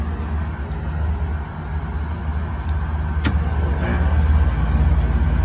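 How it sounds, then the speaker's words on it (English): A supply fan blower runs on a McQuay RPS rooftop HVAC unit, giving a steady low broadband hum and whoosh that builds slightly over time, with a brief click partway through and no talk. "Start with the supply fan. It's basically your blower on this RTU."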